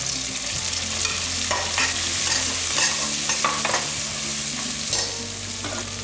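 Onions and dried chillies sautéing in a pan, with a continuous close sizzle and frequent stirring scrapes of a spoon, against a low steady background hum.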